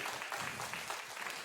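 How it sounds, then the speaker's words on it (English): A church congregation applauding: steady, soft crowd clapping heard from a distance, even and continuous throughout, with no voices over it. "that's your cue to clap"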